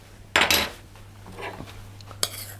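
Moistened biscuit crumbs for a key lime pie are tipped into a pie dish, giving a loud clattering scrape of dish and utensil, then softer rustling and one more sharp clink near the end, with no speech.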